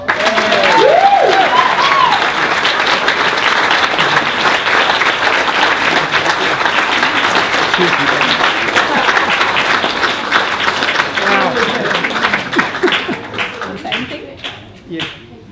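Sustained, vigorous applause fills the hall for the Rotarian of the Year at a Rotary district changeover event, with dense clapping throughout, scattered voices and cheers at the start, and a gradual fade near the end.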